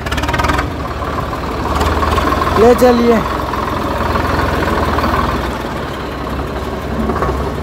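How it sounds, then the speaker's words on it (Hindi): A tractor engine rumbles steadily at idle nearby on a street, a low continuous drone under a man's brief speech. "इधर ट्रैक्टर आ रहा है"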